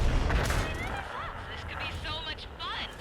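A tank gun fires in the World of Tanks video game, a deep booming blast at the start fading into rumble, while someone talks over the game sounds.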